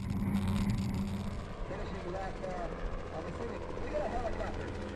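Evinrude E-Tech 250 HO outboard engine driving a P128 SS Panther racing powerboat at the Crystal Coast Grand Prix in Morehead City, a steady loud droning roar heard on board, under commentary.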